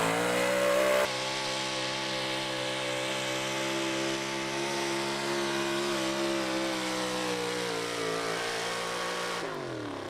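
The pulling truck Midlife Crisis roars at full revs down the track at a truck and tractor pull, a sustained, loud, high-pitched engine scream that holds steady for several seconds before dropping away.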